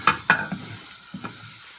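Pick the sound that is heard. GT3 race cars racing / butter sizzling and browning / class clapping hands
butter sizzling and browning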